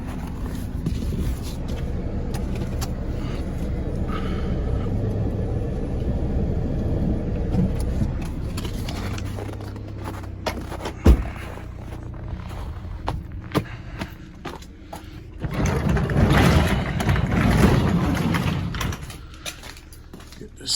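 A quad ATV engine starts and settles into a running idle outdoors, a low mechanical rumble with clicks and clatter, rising louder toward the end, with someone talking at times.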